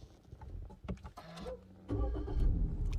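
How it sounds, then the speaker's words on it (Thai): A Suzuki Swift started with a push-button smart key: clicks and a brief starter whir, then the engine catches and settles into a steady idle, close by. "ทดสอบสตาร์ทนะครับอย่าเบรกกดปุ่มสตาร์ทครับ"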